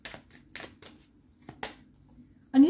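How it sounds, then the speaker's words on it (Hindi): Oracle cards being shuffled by hand: a series of short, crisp riffling bursts, each separated by a brief pause, close and fairly quiet. A voice starts speaking right at the end. "अब इन जनरल भी कुछ कार्ड्स पुल आउट कर लेते हैं"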